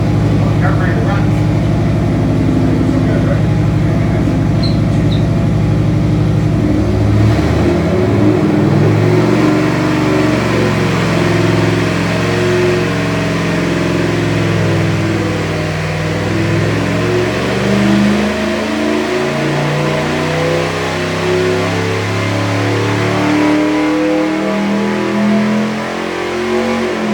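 Chevy 350 small-block V8 on a dyno in a $1600 budget build, a loud close roar that idles at first then revs and pulls hard, with voices talking over it.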